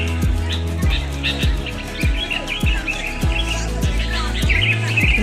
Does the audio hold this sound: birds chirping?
yes